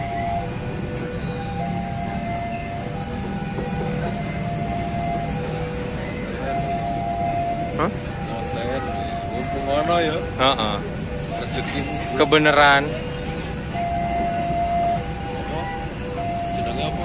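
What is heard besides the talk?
train shunting at a station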